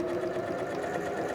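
A sewing machine stitches a steek on a knitted sweater, running as a steady continuous whir that holds for the whole short stretch without pause.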